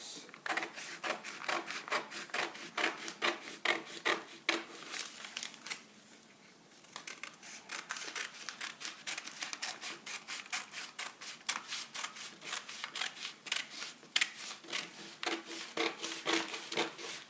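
Scissors snip steadily through blouse fabric to remove the darts, a dense run of close, crisp cuts and rustles that pause briefly midway before continuing at the same quick rhythm.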